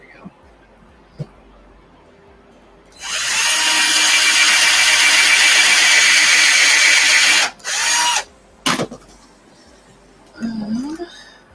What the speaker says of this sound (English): realized it's easy to drill your holes crooked